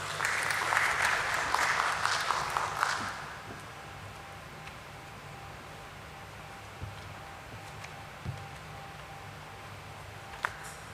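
Audience applause at the BSE listing ceremony of NMDC Steel Limited: a burst of clapping for about three seconds that stops abruptly, leaving a quiet room with a few small knocks.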